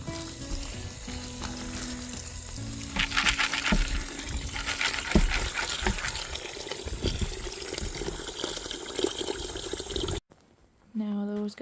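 Tap water runs steadily into a container to cover and soak food on a farm in northern British Columbia, a continuous rushing hiss that carries for about ten seconds and stops abruptly, with a voice speaking briefly afterward.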